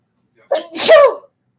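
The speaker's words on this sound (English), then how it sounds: "I'm about to sneeze." A single close, loud sneeze with a short intake of breath before the sharp burst, then silence.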